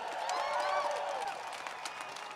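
A rally crowd at a union rally in Sydney cheers and claps for the party members, a steady roar of voices and applause that fades slightly toward the end.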